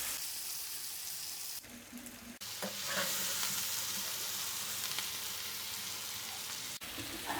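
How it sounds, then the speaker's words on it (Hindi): Potato fingers fry in a karahi with green chillies and coriander, giving a loud, close, continuous sizzle broken by brief scraping and stirring. The sizzle drops out for a moment partway through. "एक मिनट हमने फ्राई कर लिए।"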